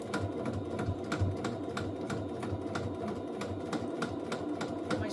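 A sewing machine stitches a seam in a steady, even run of quick mechanical clicks and a soft motor whir, close and fairly quiet, with no talking.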